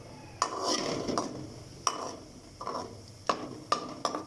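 Fennel seeds roasting in ghee in a pan for jaggery rice, with a spoon scraping and clinking against the metal in several distinct strokes over a soft sizzle, close and without voices.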